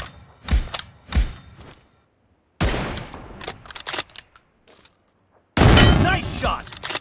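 Loud M24 sniper rifle shots in the mobile game BGMI crack out in separate bursts, each trailing into a long echoing tail, with game voice callouts between them.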